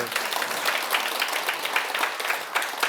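A crowd claps steadily for a few seconds, a dense, even patter of applause.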